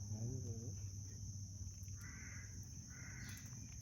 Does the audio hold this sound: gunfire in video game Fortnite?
no